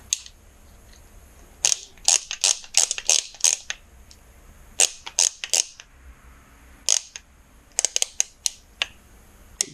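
A torque wrench tightens the engine bolts on a 2009 Kawasaki ZX-10R, sharp close ratcheting clicks in quick bursts separated by short pauses, with no talk.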